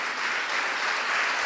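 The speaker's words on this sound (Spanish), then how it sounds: "Dale un aplauso al Señor" Church congregation applauding during a Spanish-language sermon, a steady crowd clapping wash that holds evenly for the whole moment with no voice over it.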